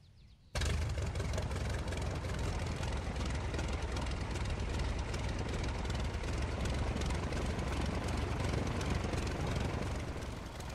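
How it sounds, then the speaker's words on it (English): An Albatros D.Va biplane engine in a flight simulator game catches and starts, jumping abruptly into a steady, loud, rumbling drone that holds without a break. "press E and the automated sequence will take over and we'll start the engine"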